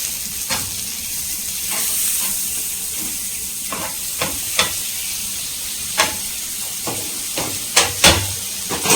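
Butter sizzling in a pan with paneer burgers, a steady close frying hiss broken by scattered clicks and light taps of a utensil against the pan.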